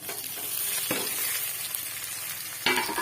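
Bitter gourd pieces fry in ghee, giving an even, moderate sizzle throughout with a few sharp scrapes and clacks as a utensil stirs them in the pan.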